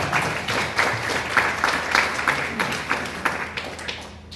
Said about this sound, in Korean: 열렬히 환영한다는 의미로 큰 박수로 시작합니다.